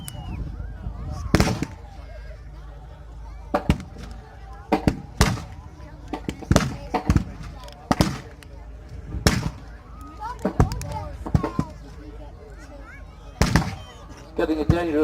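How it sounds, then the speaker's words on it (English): Sharp artillery blasts ring out at a wartime reenactment in Yorkshire, a dozen or so loud, irregularly spaced bangs over a murmuring crowd and occasional voices. "So far the Allied response has been fairly muted, just a few artillery rounds."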